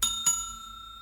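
Bell notification sound effect, two quick bright metallic dings a quarter second apart, the ringing tone fading out over the rest of the moment, clear and close with no talk.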